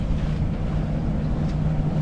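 Sailboat's engine motoring past a cape off Majorca, a steady low droning hum with a faint tonal whine, mixed with wind and water noise and no voices.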